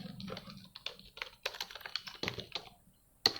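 Keys clatter on a computer keyboard in a quick, uneven run of close, crisp taps, ending with one sharper keystroke.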